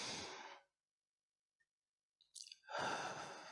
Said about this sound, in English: And so we breathe in deeply.